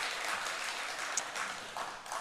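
Congregation applause at a church revival meeting after a poem reading, soft and distant, a steady diffuse patter of many hands lasting a couple of seconds with no voices over it.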